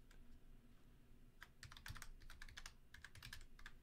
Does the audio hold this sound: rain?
no